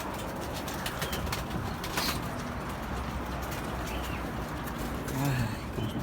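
A young racing pigeon coos softly and low, close by, against a busy background of rustling, wing movement and other bird sounds.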